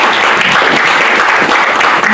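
An audience at a Kenyan talk-series event in Eldoret gives a hearty round of clapping, dense and steady throughout, loud and close, with no voices over it.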